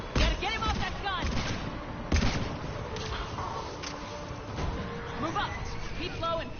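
Video game combat in a sci-fi setting, with shuttles dropping troops, fills the scene with bursts of gunfire and sharp blasts amid shouted voices and battle noise, loud and chaotic throughout.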